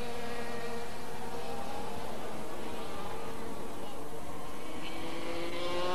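Engines on 80cc class racing motorcycles whine steadily from a distance beneath broad noise at a 1992 Zagreb race, with a commentator talking over them.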